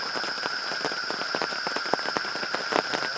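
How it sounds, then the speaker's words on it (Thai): Rain falling steadily in a durian orchard in Thailand, a dense patter of close drops with scattered sharper taps and a constant high insect-like drone, with no talking. "ตอนนี้นะครับฝนก็ตก"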